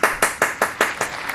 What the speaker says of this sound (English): Hey, where's my applause?